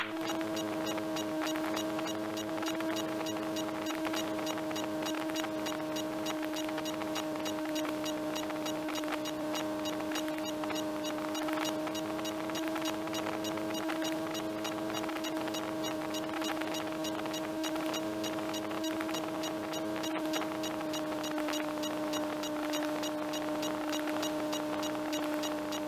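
A gyroplane's rotor pre-rotation drone runs steadily near the engine, a continuous loud tonal hum with strong harmonics and wind-like noise that stays level throughout, with no talk.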